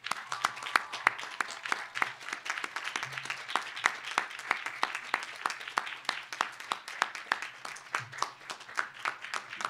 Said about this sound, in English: say thank you for their support with a resounding round of applause